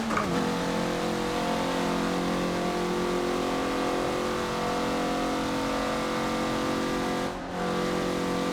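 A 2013 Mazda MX-5 Cup race car in Forza Motorsport 7 at the Nordschleife drones steadily at high revs, holding a sustained engine tone with a brief dip near the end.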